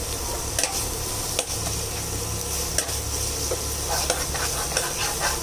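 Chopped ginger goes into onions frying in a pan, a loud steady sizzle with repeated light scrapes and taps of stirring throughout.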